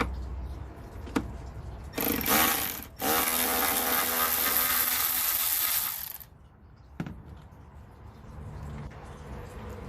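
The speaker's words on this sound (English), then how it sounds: "I'm gonna remove this bolt here." Bolt being loosened and removed while replacing the coolant reservoir on a Mercedes C230: a few sharp metallic clicks, then a loud sustained power-tool whir lasting several seconds, broken by a brief pause, with a final tap afterward.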